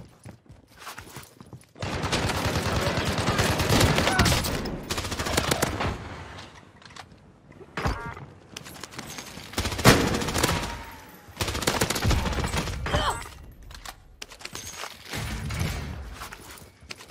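Automatic weapon fire in Warzone on Rebirth Island: long sustained bursts, dense and loud, broken by short pauses and single sharp reports, with a few footsteps between volleys and no talking.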